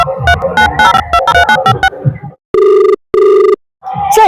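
Music plays briefly, then a telephone rings twice in distinct electronic bursts separated by silence, loud and close.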